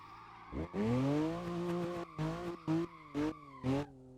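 A BMW E92 sliding sideways on a road in Assetto Corsa, with one long tire squeal followed by a string of short, rhythmic screeches as the drift is corrected, loud and up close.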